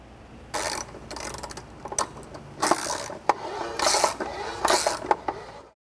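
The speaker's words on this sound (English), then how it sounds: "we can access the gearbox using a 3/8 inch drive extension and sliding that through the housing until it engages with the gearbox" Ratcheting clicks from a 3/8 inch drive extension turning the manual-override gearbox of an electric C-jack on a travel trailer leveling system, in repeated bursts of rapid clicking with short pauses, close and fairly loud.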